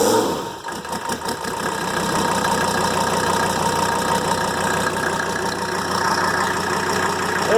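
A rebuilt Mercedes OM617 diesel engine idles steadily, its even, close rumble holding a constant pace with a faint rhythmic knock throughout and no voices.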